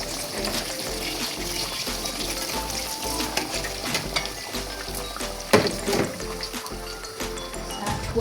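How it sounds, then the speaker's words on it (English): Hands are washed under a running kitchen tap in a home kitchen during bhajia cooking: a steady rushing stream of water with faint clatters and splashes, fairly quiet, with no one talking. "Wash my hands."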